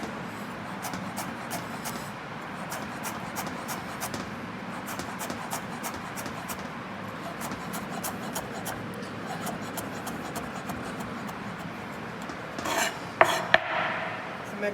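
Knife cutting vegetables into fine brunoise dice on a board, a fast even series of small crisp chops repeating steadily throughout, close and moderately loud, with a brief clatter near the end.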